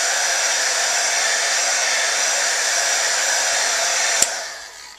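A heat tool blows hot air onto the back of a paper Christmas card to flatten it, giving a steady, loud, close whoosh that runs unbroken, then cuts off with a small click and fades near the end.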